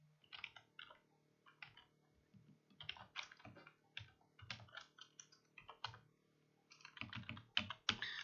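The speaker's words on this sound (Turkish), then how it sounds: "Şimdi uygulama için gerekli dosyalara nesneleri oluşturuyorum. Gerekli kodları yazıyorum." Close, quiet typing on a computer keyboard while writing Python code, bursts of rapid key clicks separated by brief pauses, with a faint steady hum underneath.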